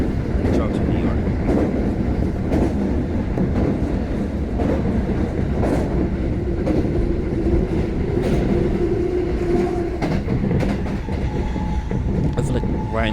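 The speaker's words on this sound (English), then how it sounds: "I want to ride these trains one day." A train running on rails in Japan, a loud steady rumble with rhythmic clatter of wheels over track joints and a faint whining tone, continuous throughout, with voices murmuring over it.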